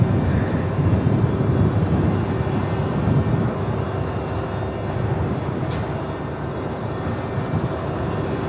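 An Airbus A350 taxis toward runway 27 at Melbourne Airport, its engines a steady low rumbling roar heard from a distance with a faint whine, continuous and unbroken.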